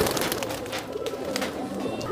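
A pair of local Rajshahi pigeons coo close by in soft, repeated throaty calls over a faint background murmur.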